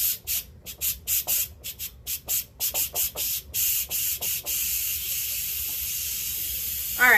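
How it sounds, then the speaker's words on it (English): Bursts of steam hiss from an Instant Pot pressure cooker's release valve as it is turned, a run of short sharp spurts settling into one long continuous hiss at close range. "so now this is ready for me to release some of the steam"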